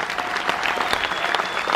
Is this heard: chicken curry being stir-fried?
no